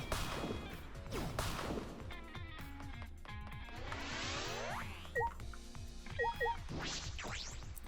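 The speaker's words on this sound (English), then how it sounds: "We're smashing these, no problem." Objects shatter in Danganronpa V3: Killing Harmony, with a run of sharp crashes and thwacks, swishing whooshes and springy game effects layered over background music, the hits coming in quick succession.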